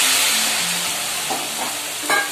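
Mashed eggplant for begun vorta stirred in a hot pan with a splash of water, giving a steady close sizzle and hiss with soft scraping stir sounds near the end.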